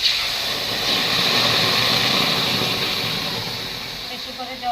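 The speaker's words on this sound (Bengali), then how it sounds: "বেশি করে জল দিয়ে দিলাম" Water is poured into a pan of fried mung dal with prawns, making a loud continuous hissing sizzle that holds steady throughout and fades slightly toward the end.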